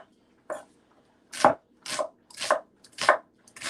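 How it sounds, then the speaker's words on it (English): Onions are roughly chopped with a knife on a board in six sharp, separate thunks at an uneven, unhurried pace, close and clear against near silence. "I'm going to chop the onions roughly."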